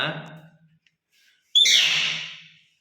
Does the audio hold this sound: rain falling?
no